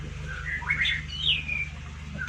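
A white-rumped shama sings a few clear, sweeping whistled phrases over a low steady hum, close and fairly loud.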